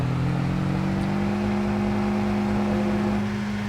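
Tractor engine in Farming Simulator 22, driven with a manual gearbox and clutch across the farm, holding a steady low drone with a constant tone for the whole stretch, close and unbroken, with no voices.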